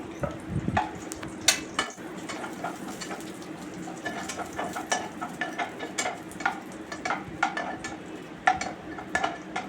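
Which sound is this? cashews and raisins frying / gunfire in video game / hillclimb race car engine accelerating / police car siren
cashews and raisins frying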